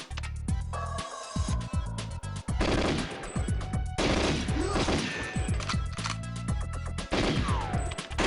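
Rapid bursts of gunfire from GoldenEye 007 on the Nintendo 64, with automatic-weapon volleys and single shots crackling almost continuously alongside game music and impact crashes.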